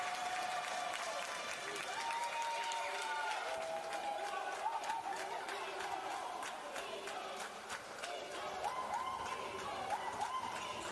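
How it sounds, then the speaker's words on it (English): A crowd on its feet cheers and applauds at a Tanzanian basketball game between African champions clubs J.K.T. and G.N.B.C. A loud, steady wash of clapping and shouting runs throughout, with a commentator's voice faintly beneath. "we have a great crowd in Tanzania on their feet"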